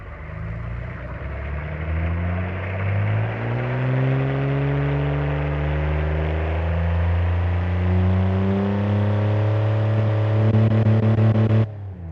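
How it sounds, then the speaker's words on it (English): A 1960 Corvair engine modeled in the game Automation revs continuously, its droning pitch sweeping up and down over several cycles, loud and close with no talk, ending in a sudden cutoff. "So let's hear what it sounds like. Let's do an automatic engine test."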